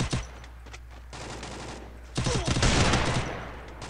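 Bursts of rapid gunfire, a few short volleys then a louder sustained barrage, dense and close with a low rumbling bed beneath.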